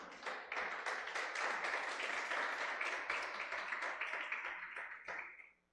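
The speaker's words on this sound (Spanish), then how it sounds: "Den un aplauso al Señor." Church congregation clapping together in praise, a dense, fairly quiet round of applause with some distinct claps standing out, lasting several seconds before quickly dying away.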